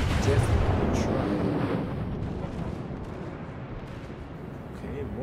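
The Kongo, a Japanese battleship in World of Warships, fires a salvo from its main guns: a heavy, rumbling barrage of booms that starts loud and slowly fades into a low, lingering roar.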